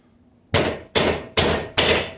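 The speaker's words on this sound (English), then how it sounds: "You can use a hammer and just give it some taps until it makes the sound change." A hammer taps a bicycle headset cup into the frame of a Bridgestone MB2 bike, four sharp, loud metallic strikes at an even, unhurried rhythm, each ringing briefly before the next.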